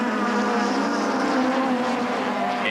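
Touring cars race past on a circuit as the field streams through a sweeping bend, a loud continuous blend of engine roar rising and shifting, with a commentator's voice faintly underneath.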